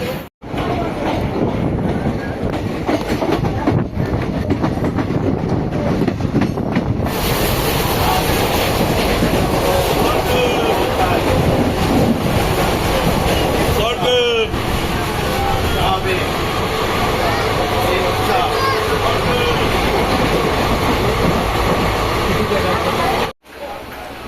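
The Maa Tara Express from Sealdah to Rampurhat runs onward after the Bolpur Shantiniketan stop, a loud continuous rumble with rattling carriages and wheel clatter heard from on board, with voices mixed in.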